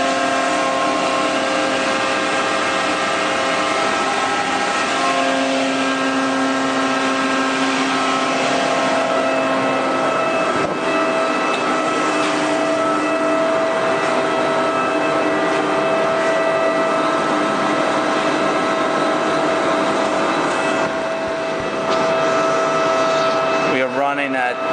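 A Haas TL3B big bore lathe runs at 200 RPM, a loud, steady mechanical hum with sustained whining tones and a constant drone from start to finish.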